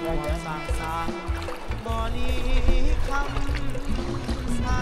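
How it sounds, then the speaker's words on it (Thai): A fast-flowing river in the mountains of Laos rushes and gurgles loudly close by, a constant turbulent wash, while people talk over it. "โอ้น้ำไหลเชี่ยวเลยนะครับ"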